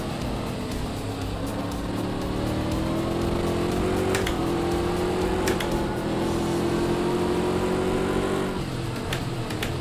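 A racing car's engine in the Project Cars 2 video game drones low and steady, rising in pitch under acceleration and dropping sharply at two gear shifts before climbing again.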